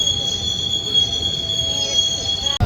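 Passenger train wheels squeal continuously with a steady high-pitched screech and a rumbling rolling noise, loud and close.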